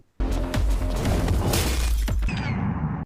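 In a Telugu action film fight scene from Family Star, a helmet shatters with a loud, sudden crash of breaking fragments that rings out for about two seconds before settling into softer debris rattle.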